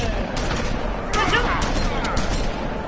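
Rapid shotgun blasts in a fight from The Wolf Among Us, a dense run of loud booming shots with sharp cracks, close and continuous, mixed with game action and talk.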